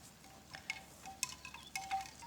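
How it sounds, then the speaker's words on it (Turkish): Faint wind buffets the microphone outdoors in a muddy garden while eggplant seedlings are planted, with soft gusty rumbles and light clicks and rustles over a quiet background. "Videoda birazcık rüzgar sesi gelebilir belki"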